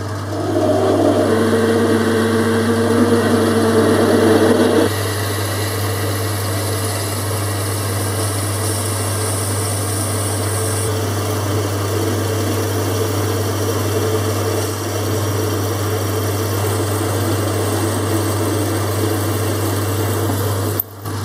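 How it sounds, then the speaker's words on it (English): Drill press boring with a 12mm drill bit during cam vice handle work, a loud steady motor hum with a harsher cutting layer for the first five seconds, then a continuous running drone without voices. "I've changed the drill for a 12mm drill."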